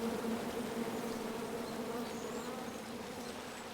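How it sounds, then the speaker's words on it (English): A swarm of angry bees in the King's Quest video game buzzes steadily and close for several seconds, a dense droning hum with no voices. "Come at me, bees!"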